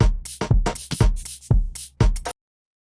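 An electronic drum group in a deep production plays a punchy pattern of hits and bright percussive bursts for about two seconds, loud and alone, then stops abruptly.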